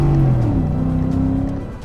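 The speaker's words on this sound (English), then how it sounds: "The V8 engine makes 360 horsepower and a fairly decent sound." 2013 Ford F-150 pickup truck with a 360-horsepower V8, a loud close engine drone that rises in pitch as it revs, then eases slightly toward the end.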